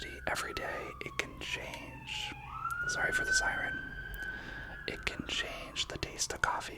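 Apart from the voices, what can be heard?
siren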